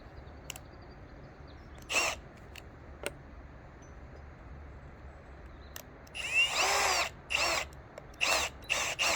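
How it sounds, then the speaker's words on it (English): A drill with a 16mm spade bit bores into a timber sleeper for dowels in a garden wall. A few short bursts come first, then several longer, louder runs of cutting near the end, heard close up. "I've got a spade bit 16mm for the dowels"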